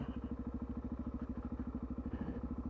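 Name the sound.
motorcycle side stand bouncing and clattering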